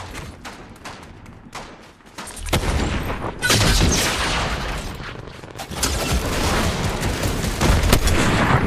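Video game gunfire rattles close and loud: a few sharp separate shots give way to sustained dense bursts of automatic fire that continue to the end.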